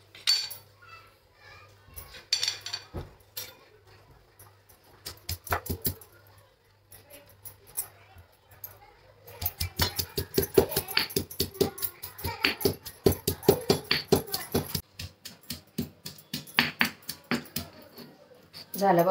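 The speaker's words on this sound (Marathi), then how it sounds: "खलबत्त्यामध्ये कुटून घेते. याचा ठेसा करून घेते." Green chillies being pounded in a stone mortar with a pestle for thecha, heard as a run of sharp, rapid knocks with scraping between strokes, close up, after a few scattered clinks.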